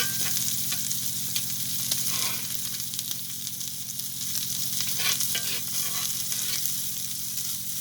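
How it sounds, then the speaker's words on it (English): Beef tenderloin sizzles loudly in butter, garlic and salt on a hot pan, a dense continuous crackle with occasional scraping as the meat is moved, close by and without voices. "Do you baste it, or you just move it around? Butter, garlic, salt, and our tenderloins."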